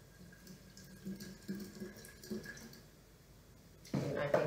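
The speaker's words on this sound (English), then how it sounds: "So now I'll pour some water" Water poured slowly into a jebana, a clay coffee pot, during an Eritrean coffee ceremony, giving a soft trickle with light splashes that swells into a louder, fuller pour near the end.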